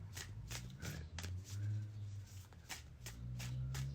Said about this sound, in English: I think I've effectively shuffled this deck enough.